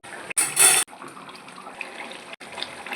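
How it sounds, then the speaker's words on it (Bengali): Hot water poured in a small amount into a Bangladeshi-style chicken roast, a brief bright splashing gush in one short burst followed by quieter kitchen clatter, no talk. "এবার দিয়ে দিচ্ছি অল্প করে গরম জল"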